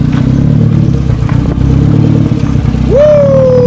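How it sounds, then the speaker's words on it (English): Mazda NB Miata engine running loud and steady close by, a low rumbling drone with clattering mechanical noise, then a rising rev near the end that settles into a sustained higher tone. "You can hear the car, you can see it, you can feel it."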